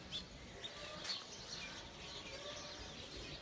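Pigeons on a Mirpur rooftop give faint, scattered chirps and soft calls over quiet outdoor background noise, with a few slightly louder notes spaced through the stretch.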